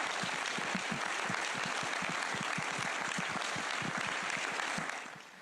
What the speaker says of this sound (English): I would like to ask everybody a big round of applause